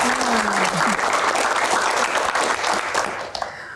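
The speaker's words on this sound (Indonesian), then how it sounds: "tepuk tangan anak kolong." An audience at a Q&A event claps loudly and continuously, a dense wash of hand claps that holds steady and begins to thin near the end, with a brief voice heard at the start.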